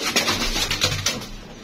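Pigeons are released and flutter off, with a few quick wing-flapping bursts and rustles close by over a short stretch, with no talking.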